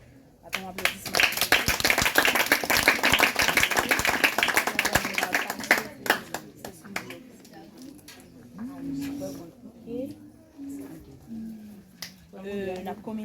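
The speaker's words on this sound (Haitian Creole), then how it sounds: "Attends, applaudissement." A church congregation claps in a dense burst of applause for about six seconds, then scattered claps continue as voices talk over the fading rhythm.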